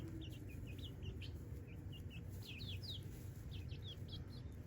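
Free-range chickens scratching around a yard give a scattering of soft high chirps and short clucks over a steady low outdoor rumble, somewhat distant, with no one speaking.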